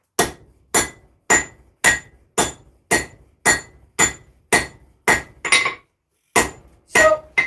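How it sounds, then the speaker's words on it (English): Cross peen hammer striking a small steel mini sword blade on an anvil, a steady series of about a dozen sharp metallic clinks with ringing tails, evenly paced, close and loud, with a brief pause near the end. "I'm using the cross peen to give the little handle curve there in the blade"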